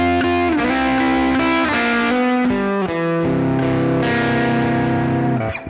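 Slow blues double-stop lick played on electric guitar through a delay effect, at about 55 BPM, with sustained overdriven notes ringing and echoing across a few seconds, loud and alone.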